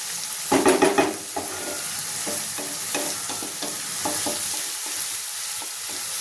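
Garlic paste hits hot oil in a pan of tengra fish curry, sizzling steadily while a spoon scrapes and stirs in sharp bursts, loudest near the start, with no voices.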